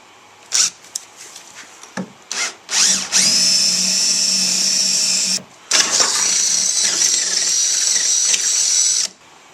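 A power drill starts with a few short bursts, then whines steadily in two long runs with a brief pause between, close and loud, drilling a hole in a Toyota Tundra truck.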